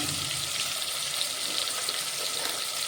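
Capsicum (shimla mirch) sizzling and frying in a hot pan for hotel-style veg biryani, a steady, loud hiss and crackle throughout with no voices.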